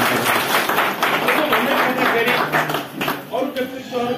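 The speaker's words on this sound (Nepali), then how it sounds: "सबैले ताली बजाएर उहाँलाई फेरि" An audience at a public gathering claps together, a dense sustained burst of applause with a voice speaking over it toward the end.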